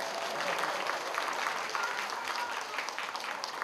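Warm applause from guests at a Korean first-birthday party, a continuous patter of clapping at moderate volume that holds steady for a few seconds.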